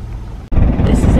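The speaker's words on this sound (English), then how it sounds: "the engine's on" A sailboat's engine runs at a marina, a steady low rumble that cuts in loudly after a brief drop and continues, with a voice speaking over it.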